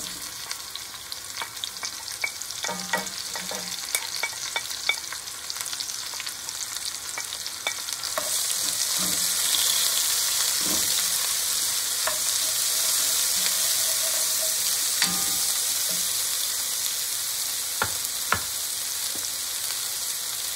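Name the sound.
onions and shallots frying in a pan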